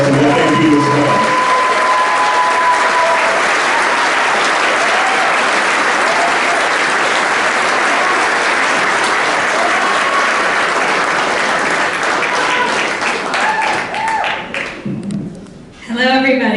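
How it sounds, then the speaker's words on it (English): A large crowd applauds at a football banquet, a loud, thick, sustained roar of clapping that holds steady before thinning and fading near the end, with voices briefly audible early on and as it dies away. "give them a round of applause and what they do as well."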